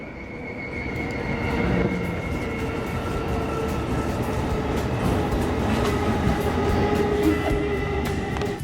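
A JR Chuo Line train runs near Takao at the western edge of Tokyo, giving a steady, loud rumble of wheels on rails with faint squeals and clicks, heard from inside, with no talking.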